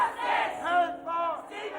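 A large crowd gathered outside a public hearing shouts and clamours in brief, close, overlapping bursts.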